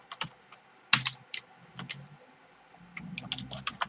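Keys clatter on a computer keyboard in short, irregular bursts of close, crisp clicks with brief pauses between them, and no one talks.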